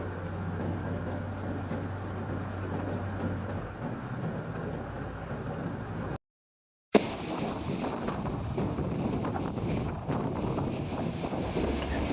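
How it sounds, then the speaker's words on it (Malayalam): Strong wind buffeting the microphone at Golden Bay beach in Malta, a constant loud rumbling roar with surf washing beneath it, briefly cut to silence partway before resuming just as strongly. "അത്യാവശ്യം നല്ല കാറ്റും നല്ല തിരമാലയുണ്ട്."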